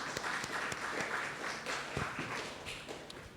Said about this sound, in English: Please give them a round of applause as they come.